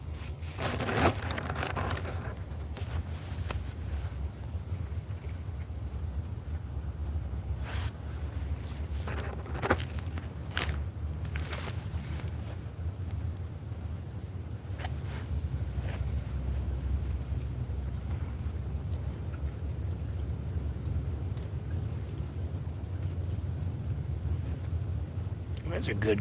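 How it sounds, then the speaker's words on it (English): A strong outdoor gust of wind rushes steadily across the microphone for a long stretch, a broad, continuous roar with brief rustling bursts, like branches knocking against trees. "That's a good gust of wind."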